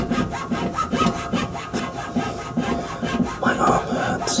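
A metal file rasping back and forth in steady, rhythmic strokes against a differential part during a diff upgrade on a Volvo 240 drift wagon, close and fairly loud with no talking.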